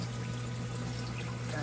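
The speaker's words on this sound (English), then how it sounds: "here's my effluent dripping" Effluent water from an aquarium sump drips and pours steadily into the tank of a 210-gallon Aqueon setup, with a constant close splashing wash and a low hum underneath throughout.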